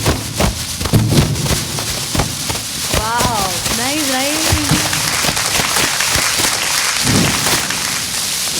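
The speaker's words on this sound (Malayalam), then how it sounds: "മാലപ്പടക്കം കൊളുത്തിട്ടേ അപ്പൊ ഞാൻ കൊടുത്തോ കൊളുത്താൻ പോണേ." A string of firecrackers crackles as a staged effect during a comedy show performance, giving rapid sharp bursts and pops under loud voices and crowd noise.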